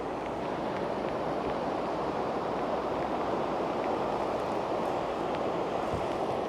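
Flooded Namkong river rushing in the rainy season, a broad steady roar of churning water, loud and continuous with no breaks, no talk.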